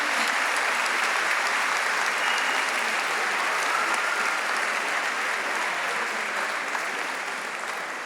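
Sustained audience applause at a school's 50th-anniversary concert event, a dense, steady wash of clapping from many hands that holds for the full eight seconds before easing off slightly at the end.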